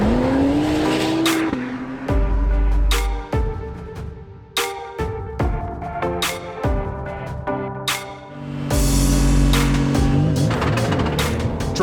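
An Acura NSX GT3 race car at race speed, its engine howling loud and close through repeated upshifts and sharp cuts, with bursts of rising revs and brief drops between gears.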